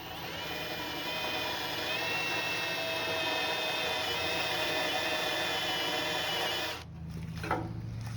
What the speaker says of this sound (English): So we got an extension on the spot weld cutter, hoping that'll give enough room to send it straight in